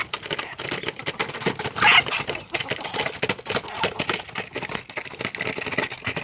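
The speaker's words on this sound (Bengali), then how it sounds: "এই যে আমার দেশি মুরগিগুলো খাওয়ার জন্য এখন ছটবট করছে" A flock of domestic desi chickens on a small farm, restless while waiting for feed, with many overlapping soft clucks and pecking patter forming a busy, continuous nearby texture.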